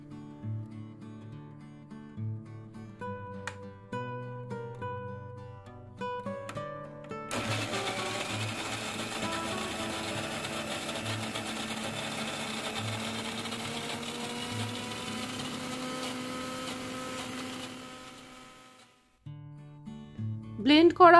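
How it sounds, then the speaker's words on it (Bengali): An electric blender whirs steadily for about ten seconds while blending bael fruit pulp with yogurt, a loud continuous motor drone that starts abruptly and cuts off near the end, with musical background before and after. "ভালো করে ব্লেন্ড করে নেব।"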